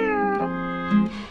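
A small kitten gives a few clear, close, high-pitched meows in quick succession, heard alone without talk.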